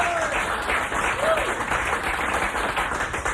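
A studio audience at a live rock radio broadcast applauds Chris Squire of Yes with a steady wash of clapping, and voices are faintly mixed in.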